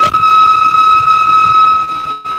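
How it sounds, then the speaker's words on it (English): A steady electronic tone holds one pitch with faint overtones, sustained and loud for a couple of seconds over a rumbling background, then cuts off. "These kind of gravitational waves are called continuous gravitational waves."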